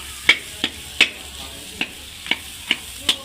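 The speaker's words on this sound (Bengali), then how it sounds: "ভালো করে ভাজিয়ে নেবেন।" Elephant foot yam curry with tomato being stirred and fried in a pan, with a series of sharp scraping clicks from the spoon at an irregular rhythm over a low, quiet sizzle.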